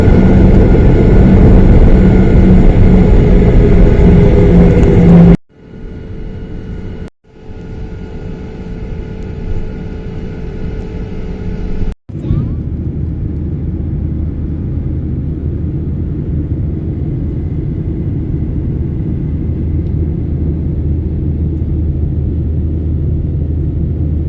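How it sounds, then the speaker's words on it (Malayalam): Malaysia Airlines jet engines roar loudly during takeoff, then give way to a steady, lower cabin drone with brief dips as the airliner climbs and flies. "ഫ്ലൈറ്റ് എടുക്കുമ്പോൾ ഉണ്ടാകുന്ന ശബ്ദവും പറക്കുന്ന"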